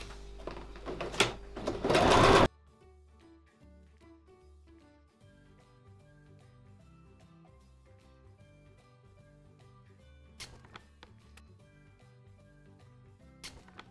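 A sewing machine sews a backpack in straight stitch, starting with a loud close rattling run of stitching for about two seconds, then a quiet stretch with only faint mechanical ticks and a few brief clicks.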